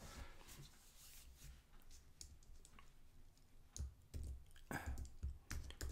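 Quiet typing on a computer keyboard, with irregular key clicks and a few sharper taps close by and no talk.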